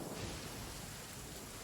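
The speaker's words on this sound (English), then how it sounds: "Man, this rain." Heavy rain with a rumble of thunder in Genshin Impact, a dense, steady roar of downpour with low rumbling underneath, continuous and without speech.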